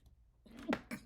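A single person's sneeze, close and fairly quiet, a short sharp burst after a brief breath in, with a small second puff trailing just behind it.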